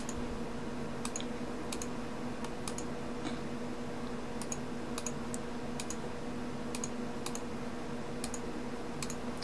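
Computer mouse clicked over and over while loading circular rotator skins in Rainmeter on a desktop: a dozen or so sharp, light clicks at an uneven pace over a steady low electrical hum, with no talking.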